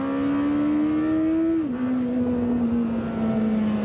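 Lamborghini Temerario engine pulls hard under acceleration, a steady loud rising drone that drops sharply at a gearshift around midway, then carries on strongly at the new pitch, close and continuous with no talk.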